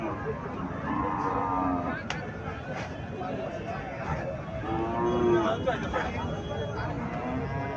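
A Jersey-breed bull lows at a busy cattle market in Chandimura, Cumilla. Several drawn-out moos rise over steady crowd murmur and nearby talking.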